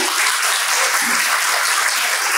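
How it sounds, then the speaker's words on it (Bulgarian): Applause at the Cake Art Bulgaria awards ceremony: a crowd clapping steadily, dense and loud and close, with no gaps and no talking over it. "ръкопляскания."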